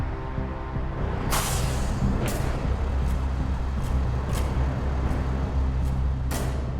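Air brakes on a heavy truck are released during a rescue recovery: a series of short, sharp pneumatic hisses bursts over a constant low engine rumble, some louder and some fainter, spread across several seconds.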